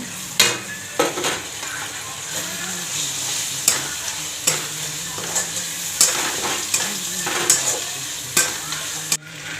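Ginger and chopped tomato fry in a pan with a constant, bright sizzle while a spatula scrapes and taps against the metal in repeated strokes, close and fairly loud, with no speech.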